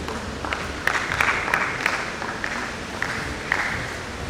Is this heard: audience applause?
yes